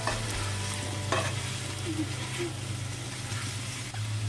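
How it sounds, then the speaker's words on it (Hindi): A spoon stirring potatoes with chili and spices in a frying pan for a dry dum aloo fry, steady scraping and soft sizzling close by, with a low background hum and no talk. "मिर्च मिक्स करके आलू डाल देंगे। तो अच्छी तरह से मसाले को मिला देंगे।"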